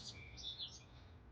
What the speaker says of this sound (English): I have a bird over here that I think is mad that we're in her way.